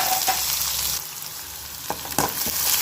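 Onions and vegetables frying in oil in a pan for mint and carrot rice: a bright continuous sizzle up close, with a few sharp spoon knocks and stirring scrapes near the end.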